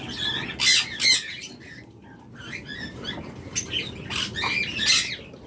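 Caged lovebirds offered for sale squawk in sharp, scattered bursts over a constant rustling, pattering background of movement and wing flutter, fairly close.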